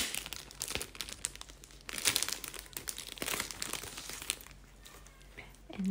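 Sticker and packaging being peeled and handled while unboxing a handmade Italian watercolor paint box, with steady close crinkling and crackling, tearing bursts around the middle, and no talk.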